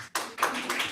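A short burst of scattered hand claps at a city plan commission public meeting, a few quick claps lasting under a second in a room.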